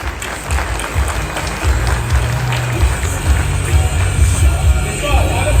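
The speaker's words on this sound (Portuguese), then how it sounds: "Palmas para o Rafael, pessoal." An audience claps for Rafael at a business seminar on trucking companies, a steady wash of applause that holds for several seconds alongside a low, droning rumble underneath.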